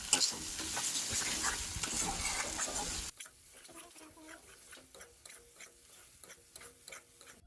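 Onion poppy seed paste is stirred slowly in a pan, first under a loud bright sizzle, then quieter after a sudden drop, with soft rhythmic scraping and a voice faintly in the background.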